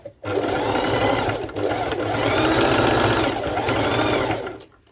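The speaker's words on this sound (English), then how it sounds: "I'm going back to my sew machine and I'm going to fix it before attaching the band" A sewing machine runs steadily stitching straps onto pole-dance shorts with ruched sides, a loud close whir in three long bursts separated by brief pauses.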